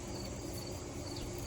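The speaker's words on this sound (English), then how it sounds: "hear the crickets." A steady chorus of crickets trills continuously from a small home garden at night, a soft, even drone with no other sounds.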